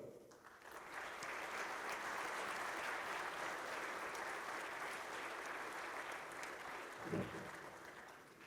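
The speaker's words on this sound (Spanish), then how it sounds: "Y hacemos extensivo el aplauso a los colaboradores y coautores de esta obra Brújula Hemisférica" An audience at a book presentation applauds, a broad sustained wash of clapping that swells in after a brief start and holds evenly, with one louder bump near the end, heard from some distance in a hall.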